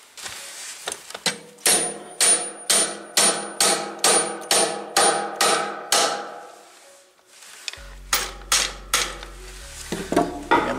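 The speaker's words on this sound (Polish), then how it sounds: "Resztę dobiję młotkiem." A hammer strikes a part into the tube of a Peugeot 306 driver's seat frame in a steady run of about a dozen sharp metallic blows. After a brief pause, a second quicker series follows, loud and close.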